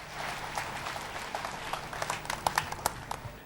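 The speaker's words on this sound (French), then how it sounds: "Applaudissons pour Jésus." A church congregation at a healing service claps at moderate volume, with sparse sharper individual claps standing out toward the end.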